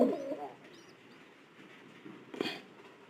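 Pigeons in a loft with newly hatched chicks, giving soft close cooing and low murmurs at the start and again near the end, with quiet background between.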